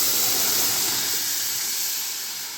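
Tomatoes for Egyptian koshari go into a pan of browned fried onions and sizzle with a loud, steady, close hiss that fades slightly toward the end, with no talking.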